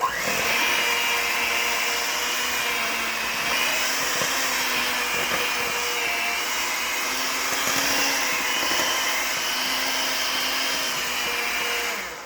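Electric mixer beating peach cake batter in a bowl, a loud, continuous motor whir with a steady pitch and a faint rattle of beaters throughout, no talk.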